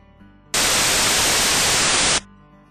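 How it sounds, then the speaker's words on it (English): A burst of loud, steady white noise switches on abruptly, holds flat for about a second and a half, then cuts off to near silence. "This time, let's listen to white noise."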